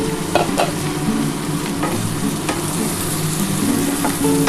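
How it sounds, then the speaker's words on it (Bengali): Pumpkin and potato pieces frying in a pan of oil, with a steady close sizzle broken by a few sharp scrapes and clicks of stirring throughout. "একটু ভাজা ভাজা হোক"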